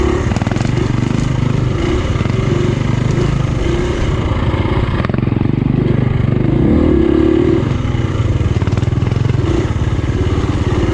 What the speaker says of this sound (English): This bike's very loud.